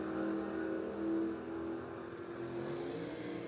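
Drag race cars launching off the line at a dragway, a Ford and a Pontiac, with engines roaring loudly and steadily throughout, a sustained revving drone that swells early and holds.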